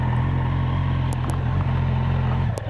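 Moto Guzzi Griso motorcycle with about 126,870 km on it, engine thrumming steadily and loud close by as it pulls away, a couple of brief ticks above the low drone.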